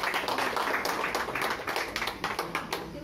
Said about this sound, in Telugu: అందరూ చప్పట్లు కొట్టండి కుర్రాళ్ళందరూ.